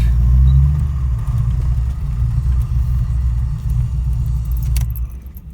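A car fitted with a Comp Cam XE274HR camshaft driving and pulling in, a loud steady low engine rumble heard from inside the cabin, easing slightly near the end with a few light rattles.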